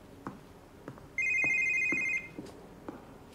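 A phone rings once with an electronic tone for about a second, loud and clear over a quiet room, and soft regular ticking or tapping is heard throughout.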